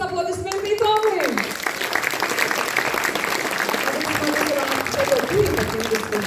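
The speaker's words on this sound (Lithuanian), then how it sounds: "Na dar kartelį jūsų gausūs aplodismentai Tomui." Concert audience at a mixed choir's 30th anniversary concert applauds steadily and densely, while a voice speaks over the start of the clapping.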